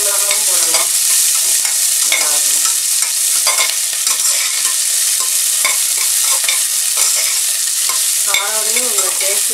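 Green chilli fries in oil in a pan for a Mappillai Samba rice upma, with a loud constant sizzle and repeated scraping stirs close up, no talking.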